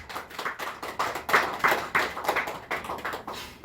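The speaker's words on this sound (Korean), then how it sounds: "박수 한번 쳐주세요" An audience in a Korean church sermon setting claps hands in quick, rhythmic bursts of sharp taps, moderately close and steady throughout, with no talking over it.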